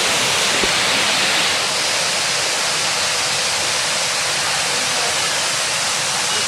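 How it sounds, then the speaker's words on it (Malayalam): Areekkal waterfall after heavy rain, dropping about 100 feet onto rocks: a loud, steady, broadband roar of crashing water that stays constant throughout. "ഏകദേശം 100 അടിയോളം ഉയരത്തിൽ നിന്ന് പാറക്കെട്ടുകളിലേക്ക് ചിതറിത്തെറിക്കുന്ന അരീക്കൽ വെള്ളച്ചാട്ടം"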